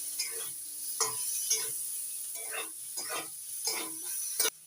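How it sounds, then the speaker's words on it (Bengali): Paneer frying in a pan, a continuous soft sizzle broken by regular stirring scrapes and clinks of a utensil about every half second, no speech. "পনিরগুলো হালকা করে ভেজে তুলে নিই"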